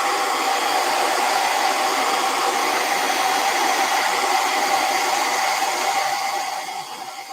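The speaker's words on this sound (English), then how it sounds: "I'm going to hit this real quick with a blow dryer." A heavy-duty blow dryer blasts a steady, loud, close whoosh over freshly sprayed paint, running continuously before tapering off slightly at the end.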